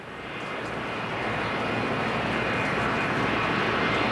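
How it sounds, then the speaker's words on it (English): Jet dryers blow the last of the Speedy Dri off the racetrack at Phoenix during a K&N Pro Series race. A loud, broad, steady roar swells over the first second and then holds, with no voices. "the jet dryers out there as well. They're going to try to blow what's left of the speed zorb off the racetrack"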